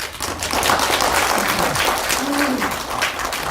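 An audience at a Korean history lecture gives a dense, steady round of clapping that holds at an even level for several seconds, with a voice briefly heard through it.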